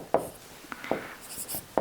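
Pen writing notes on a board or paper, a few short sharp strokes and scratches spaced irregularly, close and fairly quiet.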